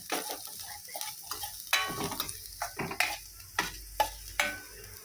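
Vegetables being sautéed in a pan, with broadband sizzle and a run of sharp spoon scrapes and knocks against the metal in an irregular rhythm, close and moderately loud, with no voices.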